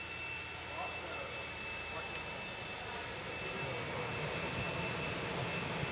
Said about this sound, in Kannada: ಇದು ಸ್ಟಾರ್ಟ್ ಆಯಿತು ನೋಡಿ ವೆಹಿಕಲ್ಲು